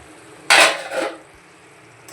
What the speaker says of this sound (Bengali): এবার ঢাকনা দিয়ে দিচ্ছি।